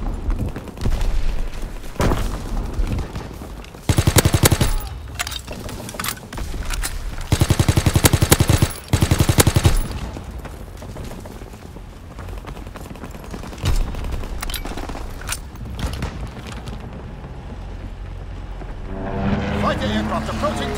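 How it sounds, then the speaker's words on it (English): Aircraft strafing gunfire in the World War II shooter Call of Duty: WWII, with dense bursts of rapid shots and booms rising over ongoing game noise and radio-style voice callouts. "Fighter aircraft ready for strafing run."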